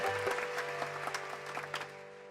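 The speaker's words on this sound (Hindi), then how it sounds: "तो उनके लिए तालियां।" Scattered clapping from a small crowd, steady and moderately loud for a couple of seconds, with a faint hum underneath.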